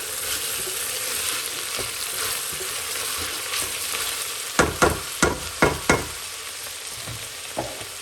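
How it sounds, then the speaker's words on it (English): Onion, squash and garlic caramelize in a soup pot, a close, steady sizzle with a run of five quick spoon scrapes and knocks midway and one more near the end. "I'm caramelizing the onion, squash, and the garlic together."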